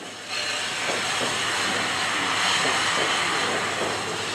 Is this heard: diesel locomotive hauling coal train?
yes